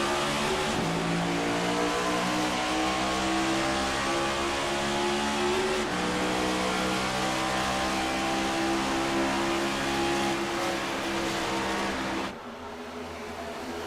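A pack of race cars in the ICON Cup Series at California accelerates together on a green flag restart, engines revving up in a sustained, loud, layered roar before dropping off abruptly near the end.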